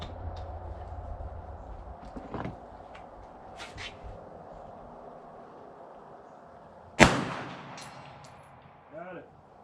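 Gunfire at an outdoor shooting range with a .500 S&W, .45 Colt, Bushmaster AR-15 and Glock, heard as a few sharp single reports, one much louder and closer, over quiet background murmur.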